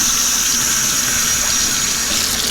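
Warm tap water runs steadily and loudly from a faucet as a green and blue wedge tie-dye shirt is rinsed, a continuous rushing splash with no pauses.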